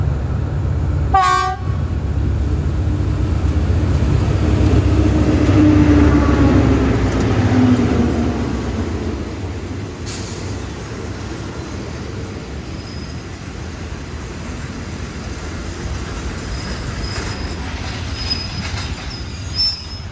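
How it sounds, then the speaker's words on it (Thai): Local train 445 pulling into Khlong Sai station in Thailand, a loud, steady rumble of rolling wagons and wheels with a short horn blast near the start and faint squeals later on. "ขบวนรถท้องถิ่น445 ชุมพรชุมทางใหญ่ เข้าสู่สถานีคลองไทรในทางที่ 1 นะครับ"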